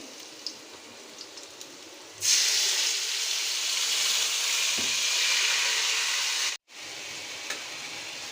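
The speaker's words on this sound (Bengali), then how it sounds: "এ পর্যায়ে আমি মশলা দিয়ে দিচ্ছি" Spices hitting hot oil in a pan of fried onions for a homemade Bangladeshi fish curry give a sudden loud, steady sizzle that holds for several seconds, then cuts out briefly and returns.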